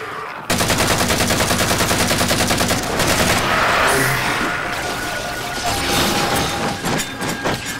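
Rapid automatic gunfire from Knight enemies in the video game Halo 4 erupts loud and close, a dense burst of shots followed by rumbling explosions and weapon noise.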